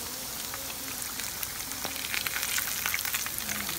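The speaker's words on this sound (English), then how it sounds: "take my nice coated battered fish, put it in my pan." Battered flounder with a cornmeal coating and Cajun sauce in the batter fries in a pan, giving a steady close sizzle with scattered crackles that grow busier and louder toward the end.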